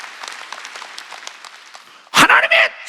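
A congregation at a Sunday church worship service claps in a soft, scattered patter for about two seconds before a loud voice breaks in over the fading applause.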